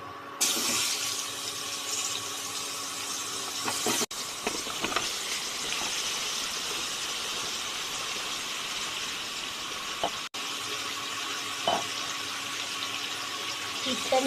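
Potatoes and squash sizzling in hot oil in a pan over medium heat, a steady close frying hiss that runs throughout with a few small pops and brief dips.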